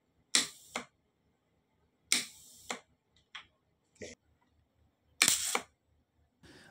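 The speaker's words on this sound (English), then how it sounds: "When I turn on the switch, you can hear that the solenoid valves are working." Solenoid valves on a Gema powder coating gun controller clicking as the switch is worked: several sharp, close clicks and short snapping bursts, spaced irregularly with quiet gaps between them.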